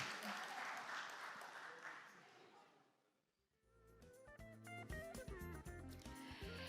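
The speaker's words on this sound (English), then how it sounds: "give them a round of applause" Audience at a formal presentation event in Singapore applauds loudly, then the clapping fades out and music with chimes begins.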